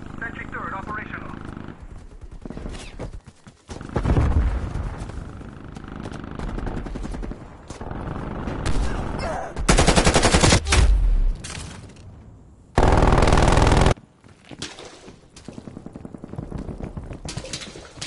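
Sentry turret machine gun fire in Call of Duty: Black Ops Cold War multiplayer, with loud rattling bursts that start and stop among other game effects and booms, and voices talking throughout.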